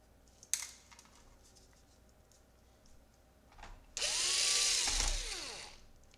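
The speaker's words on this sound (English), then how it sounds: "here we got five screws. Okay, which we're gonna screw in right now" A power screwdriver drives screws into the case of a Dell Inspiron 15 3000 laptop, with a short sharp click early, then a loud close whirring burst of about two seconds that winds down at the end.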